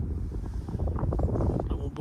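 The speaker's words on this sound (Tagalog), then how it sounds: "Gumagalaw yung rod natin pero hangin lang yan, oh. Lakas kasi yung hangin eh." Strong wind buffets the microphone on a lakeshore at Lake Alberta, a continuous low rumbling roar filling the whole stretch with steady gusting force.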